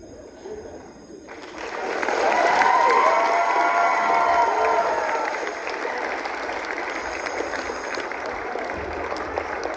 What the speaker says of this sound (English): I am truly honored by your gracious applause.